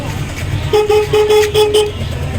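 A weak motorcycle horn toots in a few short bursts, a steady buzzy tone repeated about four times, fairly close and loud over a low rumbling background.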